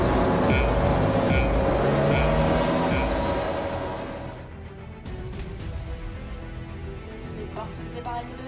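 F1 2020 race-start engine roar at the Russian Grand Prix in the video game, with many cars droning loudly together for about four seconds before the sound thins into a quieter, more distant engine hum.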